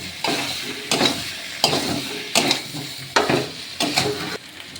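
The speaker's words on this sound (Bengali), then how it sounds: "আবার একটু নাড়াচাড়া করে নেব আলুগুলো দিয়ে দেব দিয়ে সব আবারও কষিয়ে নেবো" Potatoes for aloo dum being stirred and fried in a pan, a steady sizzle punctuated by about six rhythmic scraping strokes of a spoon against the pan, close and fairly loud.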